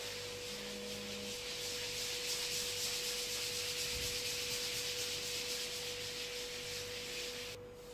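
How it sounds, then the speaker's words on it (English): Steady rubbing scrub of a scrubber on a surface in a kitchen, a continuous faint swishing texture lasting several seconds with a steady background hum. "She won't mind me using a scrubber."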